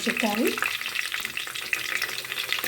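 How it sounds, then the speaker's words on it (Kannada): Mustard seeds and curry leaves frying in hot oil for a bottle gourd dal, a loud close sputter and crackle with a quick stirring scrape at the start. "ಇವಾಗ ಎಣ್ಣೆ ಕಾದಿದೆ ನಂತರ ಸ್ವಲ್ಪ ಸಾಸಿವೆ ಕರಿಬೇವು"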